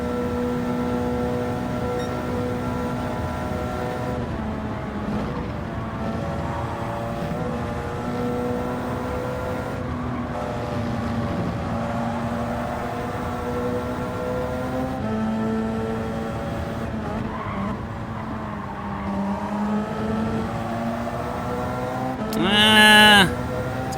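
Prototype race car engine in Gran Turismo 7 during Six Hours of the Glen qualifying drones steadily and close at high revs, its tone shifting with gear changes and a brief louder burst near the end.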